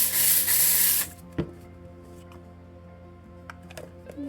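An electric kitchen grinder grinds flaxseed into meal with a loud, steady whirring buzz for about a second, then cuts off, leaving a few faint clicks and taps.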